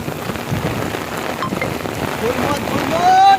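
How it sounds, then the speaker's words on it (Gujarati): Heavy rain pours down in a dense, continuous roar on nearby surfaces, with a faint whistle-like tone rising near the end. "ફૂલ વરસાદ છે"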